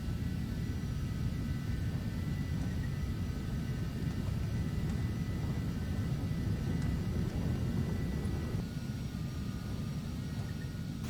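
Phenom jet taxiing across a runway in a flight simulator game, a constant deep engine drone with a thin turbine whine above, steady and unbroken for the whole stretch, no voices.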